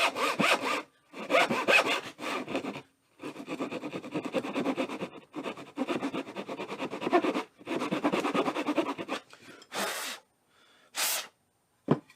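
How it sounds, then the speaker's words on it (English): A hand saw cutting a groove into a soft lead-tin cable end, with repeated rhythmic back-and-forth rasping strokes in several bursts separated by short pauses, close and fairly loud, with no talking. "So I'm just going to take a saw and just give me a line."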